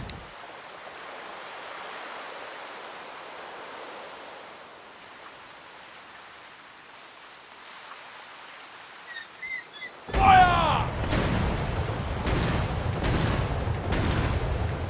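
Video game naval battle: quiet watery rumble, then a sudden loud burst of heavy booming blasts from a ship's cannons, several shots in quick succession.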